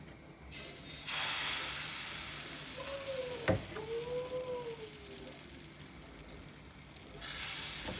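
A crêpe cooking in an oiled pan gives a soft steady sizzle and hiss, with one brief clack and a faint whistling tone midway, fairly quiet and without voices.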